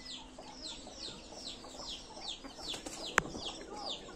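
A hen clucks softly among young chicks peeping in a rhythmic stream of high calls while they scratch around a farmyard, close and fairly quiet, with one sharp brief knock partway through.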